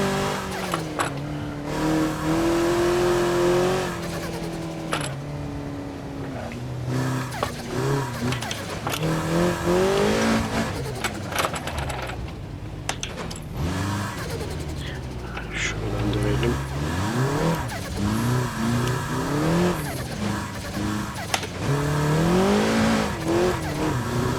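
A rear-wheel-drive Toyota GR86 accelerating hard on a loose-surface rally track, its engine revving up and down with tire noise throughout, heard from inside the car under continuous talk.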